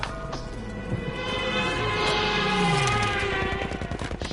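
Gunfire in a Battlefield V conquest match, a steady stream of rapid automatic shots that grows dense toward the end, mixed with whining engine or vehicle tones and crashing battlefield noise.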